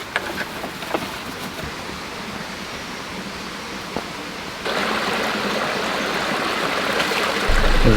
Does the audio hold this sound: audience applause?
no